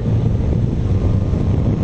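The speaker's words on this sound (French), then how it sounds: "t'entends tout le vent dans ma gueule là" Steady, loud wind buffeting the microphone while riding a Yamaha Tracer 900 motorcycle, a dense low roar with engine rumble underneath, continuous and unbroken with no talk.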